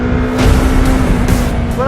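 Yamaha YZF R3 motorcycle engine held high in the revs, a steady loud drone with a strong constant tone, heard close up for a couple of seconds without speech.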